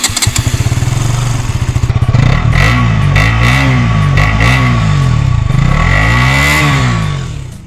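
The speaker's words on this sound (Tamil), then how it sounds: "ஸோ உங்களுக்காண்டி ஒரு எக்ஸாஸ்ட் நோட் சாம்பிள்." A KTM RC 200 MotoGP Edition motorcycle with underbelly exhaust rumbles at idle, then revs up repeatedly in several sharp rising-and-falling blips, loud and close, with no talking.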